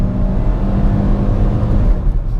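Chevrolet Prisma LTZ 2018 automatic accelerating hard, a steady loud engine drone that holds through the clip with a slight dip near the end, as if shifting gear, heard from inside the car.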